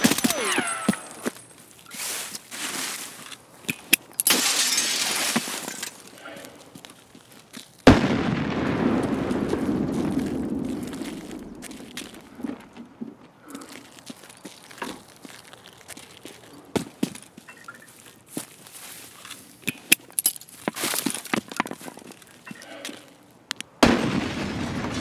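A grenade detonates during an Escape from Tarkov raid, a sudden loud boom with a rumbling tail amid sporadic gunfire, glassy clinks and gear rustle, without talk.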